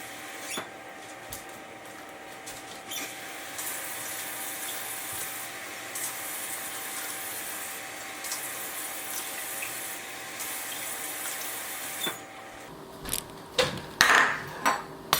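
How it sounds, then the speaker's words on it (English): Steady rushing of tap water pouring into a container for wheat paste, continuous for several seconds, then a few clunks and splashes as the flow stops. "Now what I'm gonna do is fill this up with some water"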